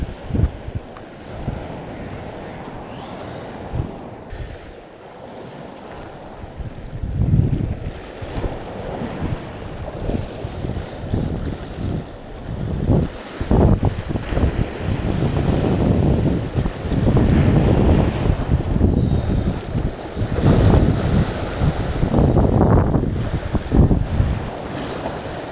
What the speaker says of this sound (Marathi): इथे लाटा जोरात आहेत